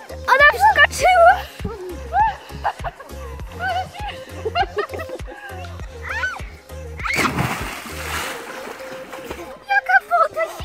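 A person jumps into a cold lake, giving a broad rushing splash and sloshing water near the end, surrounded by excited shouting and laughter from several people before and after.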